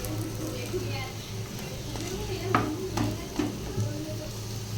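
Potato fritters (bora) frying in a little oil in a home kitchen, giving a steady close sizzle with a few soft clicks of a utensil, while someone talks over the cooking.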